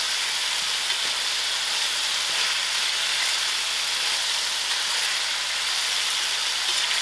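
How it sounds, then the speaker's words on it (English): Soft potatoes fry under a lid in a covered pan with salt, a steady, even sizzling hiss with faint crackles, close and constant, no talking. "Then I'll allow this to fry for about 10 minutes because it's very soft cooking potatoes"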